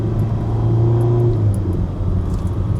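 A 2026 Ferrari is driven on a road in Portugal in second gear in manual mode, and its engine gives a loud, steady, deep rumbling drone that swells slightly midway, close and continuous with no talking over it.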